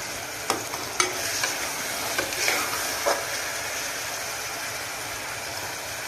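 Onions sizzle in a pan for mutton masala curry while a spoon stirs them, giving a steady close frying hiss broken by several scraping clicks in the first few seconds.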